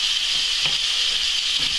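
Onion and bacon frying gently in hot oil in a pan, a steady close hiss and sizzle with faint crackles, heard alone without talk.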